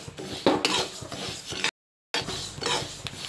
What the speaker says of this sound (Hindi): अब हमने काली राई और पीली राई को मिक्स करके इसको भी ड्राई रोस्ट कर लिया